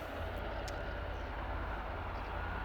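A helicopter sits parked at Aberdeen airport with its engines running, heard as a steady, fairly distant low rumble and whine that holds even for the whole moment.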